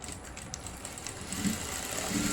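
A sewing machine stitches the back piece of a blouse, running forward and then in reverse, with a rapid, faint mechanical ticking and whirring that keeps going without any voice.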